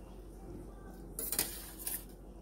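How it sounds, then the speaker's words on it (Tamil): Paneer pieces are strained from hot water and added to a butter masala gravy, producing a couple of light metallic clinks and scrapes of a utensil against a pan over a quiet kitchen background. "அதை நான் அப்படியே டைரெக்டாக ஸ்ட்ரெயின் பண்ணிவிட்டு இதில் ஆட் பண்ணுறேன்."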